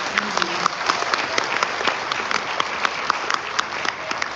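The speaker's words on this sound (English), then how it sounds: "One more round of applause for our ladies." An audience at a graduation ceremony gives the graduating women a full round of applause, a dense, loud wash of clapping that stays level throughout with scattered crisp individual claps.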